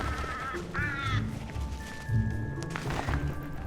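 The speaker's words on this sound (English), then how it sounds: "Crows and magpies try to lay claim to the carcass" Crows and magpies squabbling over a frozen carcass, with a few harsh caws and chattering calls rising over low rustling and thuds, fairly close, with no voices.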